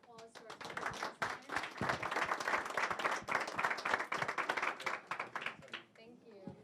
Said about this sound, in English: Let's give a round of applause to our speakers.